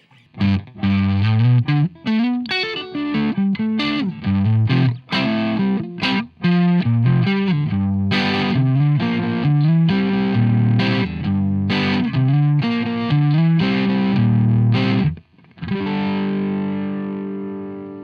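Distorted electric guitar through a Marshall 1959 Super Lead pedal, guitar volume rolled off, plays chords and riffs with a slightly tamed, less aggressive crunch, ringing out at the end.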